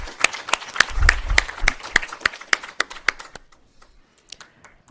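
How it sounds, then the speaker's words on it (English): Scattered hand clapping from a conference audience at a petroleum policy consultation, applauding the Governor; a short burst of sharp claps that thins out and fades to a few isolated taps. "Another round of applause, please, for the Governor."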